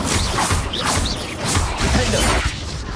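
A Confringo explosive spell cast in Hogwarts Legacy, a series of loud crashing blasts and whooshes with bright high crackles, repeating in quick bursts over a busy combat background.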